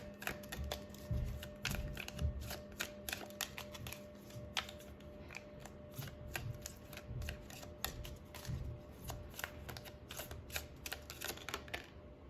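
A deck of oracle cards is shuffled close by, rapid crisp riffling clicks and flicks in quick irregular bursts, quiet, with no talking.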